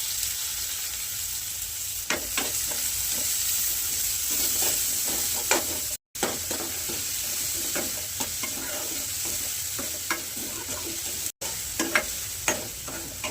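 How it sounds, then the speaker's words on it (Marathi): Finely chopped onion sizzles steadily in hot oil with cumin in a pan, with repeated scraping and clinking stirring strokes throughout while making dal tadka, the frying close and continuous with no talk. "ना बारीक चिरलेला कांदा टाकून घेऊया त्याच्यात."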